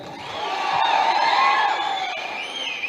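A crowd at a BRS party workers' meeting cheers and shouts in a sustained swell of voices, loud and close, rising and then easing off over a few seconds.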